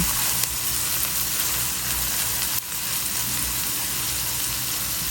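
Cabbage stir-fry sizzling in a hot pan, a dense, steady crackling hiss that stays constant throughout with no voices.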